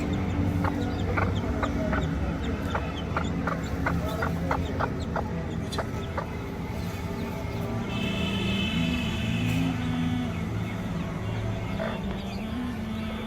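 A hen clucks softly and repeatedly beside her one-day-old chicks, whose faint peeps blend into a steady outdoor background of wind and distant traffic.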